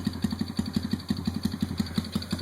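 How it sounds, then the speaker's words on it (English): A small 2009 Kawasaki KLX110 dirt bike fitted with an aftermarket exhaust idles close by, its engine putting out a steady, rapid pulse of even firing thumps with no voices over it. "here goes Jake's new dirt bike. It's a little 2009 KLX110."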